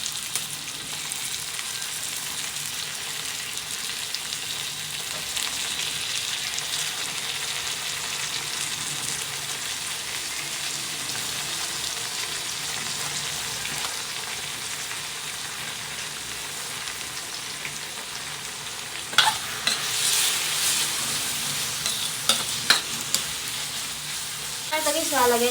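Garlic, onion and shrimp paste sauté in a pan for kare-kare, giving a steady close sizzle and frying hiss throughout, with brief clinks of stirring near the end.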